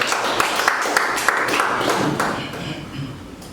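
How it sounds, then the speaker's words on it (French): Applause from an audience at a training session, a steady patter of many hands clapping that softens toward the end, with a voice partly over it. "vous pouvez vous applaudir"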